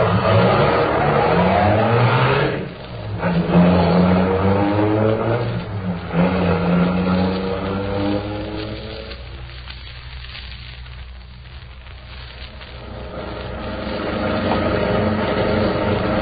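A car engine revs hard and accelerates, roaring loudly before fading as it pulls away, no talking.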